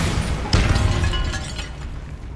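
A Bombarda blasting spell from Hogwarts Legacy bursts in a sharp, loud explosive crack with crumbling debris, then a rumbling tail that slowly fades across a couple of seconds.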